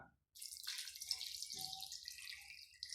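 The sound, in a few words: water poured into curry pot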